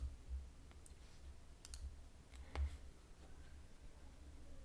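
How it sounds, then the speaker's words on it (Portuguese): A computer mouse gives a few faint, sharp clicks at irregular intervals over a quiet background. "Deixa eu clicar aqui, ó."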